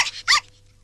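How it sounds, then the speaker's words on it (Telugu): A small puppy gives two short, sharp yaps close by, then quiet. "కుక్క పిల్ల."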